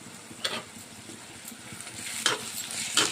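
Ginger garlic paste frying with softened onions in a pan, a low steady sizzle with a few sharp stirring scrapes standing out near the end.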